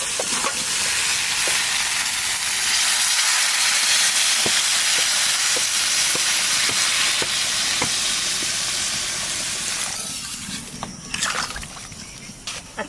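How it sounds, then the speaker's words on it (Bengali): Hot water hits a pan of frying country-chicken curry, setting off a loud, hissing sizzle that holds steady and then fades near the end, broken by a few clinks. "এখানে গরম জল দিয়ে দেবো।"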